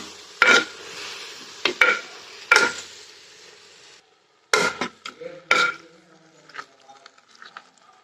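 Steel ladle scraping and knocking inside a clay pot while mushroom masala cooks in oil, coming as several distinct clattering strokes with brief pauses, fairly close, with no voices.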